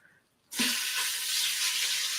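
After a short quiet moment, meat hits a hot pan and a loud, steady sizzle takes over, hissing continuously and close by.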